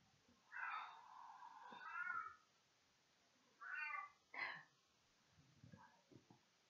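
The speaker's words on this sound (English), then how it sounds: "my cat's meowing and I don't want to distract you guys" A pet cat meows several times during a quiet meditation session, with drawn-out calls and shorter chirps, soft and somewhat distant in a hushed room.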